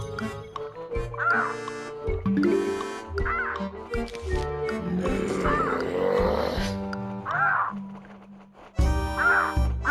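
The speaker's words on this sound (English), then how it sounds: "Day 2 introduced one of those zombie I was talking about earlier, the seagull zombie" Seagull zombie from the video game Plants vs Zombies, with repeated squawking cartoon calls over the game's layered music and effects, several bursts spaced through the scene.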